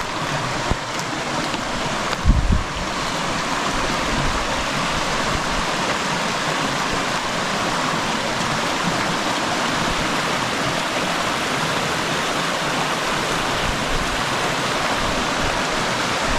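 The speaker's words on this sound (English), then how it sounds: "Beautiful creek." A flowing mountain creek on a hike near Hungry Horse Dam, a loud, steady rushing wash of water close by, unbroken throughout with one brief knock early on.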